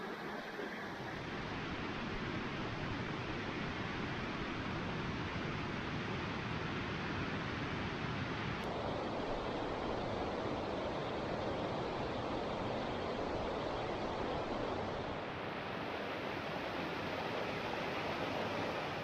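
Waterfall beside Haweswater in the Lake District, a constant broad rushing roar of falling water, close and steady, with a slight change in tone partway through and no talking.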